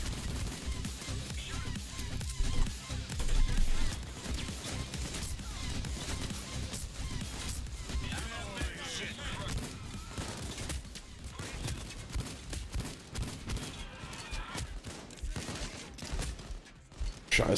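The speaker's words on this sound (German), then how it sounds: "Scheiße, ich habe schon wieder meinen eigenen abgeknallt." Sustained gunfire in the video game Payday 2, dense overlapping shots and bursts filling the whole stretch at steady loudness with no clear breaks.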